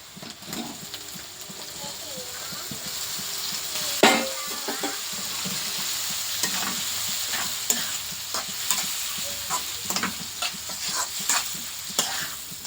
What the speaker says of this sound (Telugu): ఇప్పుడైతే మనం అయితే బోటి వేసుకుందాం